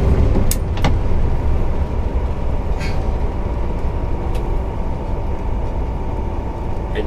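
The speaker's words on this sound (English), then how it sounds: "Nothing like the hum of a Detroit." A Detroit diesel engine hums steadily inside a 1948 GMC Silverside bus on the road, a loud, continuous low drone with road rumble and a few faint clicks and rattles from the cabin, with no talking.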